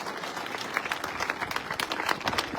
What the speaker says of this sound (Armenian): ծափ տանք մեր երեխեքին